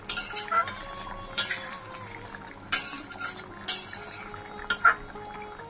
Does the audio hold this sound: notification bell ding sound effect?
no